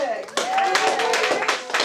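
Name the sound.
audience applause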